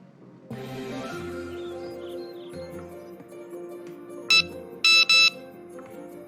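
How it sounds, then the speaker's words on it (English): A phone's text message alert chimes near the end as three short, bright electronic beeps, clear and loud above a steady background of hum and low room noise. "I think I have a text message."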